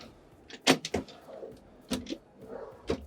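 Soft-close kitchen drawers in a 2020 Chic C-Line Mercedes-Benz motorhome slide shut one after another with muted thuds and soft clicks, close and quiet with short pauses between them.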